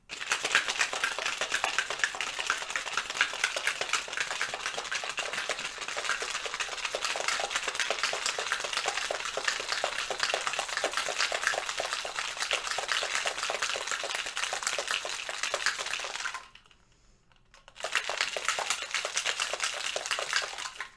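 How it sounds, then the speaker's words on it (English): Ice rattles hard inside a cocktail shaker while a daiquiri is mixed, a loud, rapid, continuous clatter that stops briefly for about a second before the shaking resumes. "You want to shake until you hear the ice broken up in there, as well as chilling the glass."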